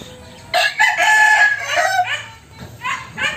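Paraoakan gamefowl roosters crow loudly and close by in a long drawn-out call, followed by shorter clucks and a second brief crow.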